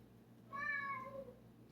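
A cat gives a single clear, drawn-out meow with a tonal rise and a falling tail, fairly close in a quiet kitchen where chicken meatballs are being made in a cast iron skillet.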